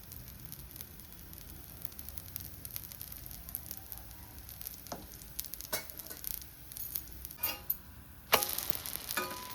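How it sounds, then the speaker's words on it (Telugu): Oil drizzled onto a hot griddle for wheat dosa sizzles faintly with a soft, steady hiss, then a louder burst of crackling near the end, quiet and close with no voices. "ఊతప్పం లాగండి కొంచెం ఆయిల్ వేస్తున్నాను"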